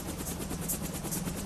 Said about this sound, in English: another helicopter is about to leave an oil platform